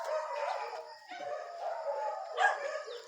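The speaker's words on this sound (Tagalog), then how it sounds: "Mga aso maiingay kasi" Several dogs barking and yapping together outdoors, a steady noisy chorus that swells and dips over three seconds with one sharper bark burst near the end.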